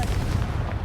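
Confringo fire spell blast in Hogwarts Legacy, a heavy, booming, continuous roar that fills the whole short moment at close range.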